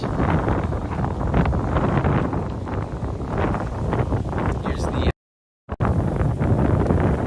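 Light typhoon wind in Tokyo roars steadily and loudly across the microphone in rough buffeting gusts, with a brief dropout near the end.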